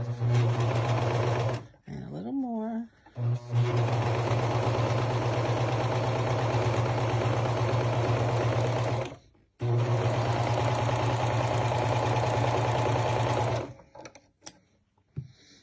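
A serger fitted with an elastic foot stitches elastic in long, steady bursts of rapid mechanical whirring, stopping twice for brief gaps with a short voice and handling noises, then falling quiet near the end.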